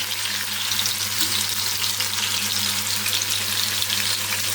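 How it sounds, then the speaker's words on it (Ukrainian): Marinated meat fries in a pan with a continuous bright sizzle, steady and close, over a low background hum. "М'ясо вже промаринувалося, я його підсмажую"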